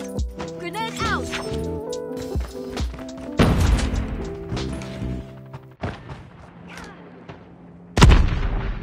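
An explosive boom from a grenade in a ranked Search and Destroy match of a shooter video game, standing out loudly at about eight seconds above sustained gunfire, in-game voice callouts and game audio throughout.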